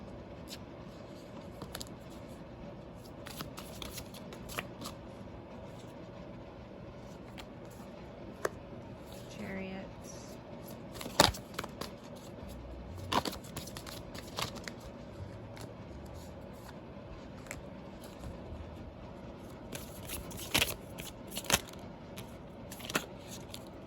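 Tarot cards being shuffled in a quiet room during a reading, a steady soft riffling and sliding with occasional sharper snaps and taps of the deck, fairly close and without talk.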